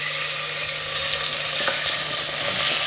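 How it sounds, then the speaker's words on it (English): Tomatoes, garlic, salt and pepper hitting hot oil in a pan, a loud continuous sizzle with faint scraping of a utensil, close and steady. "Put the tomatoes into the oil, the garlic, the salt, and the pepper, and everything."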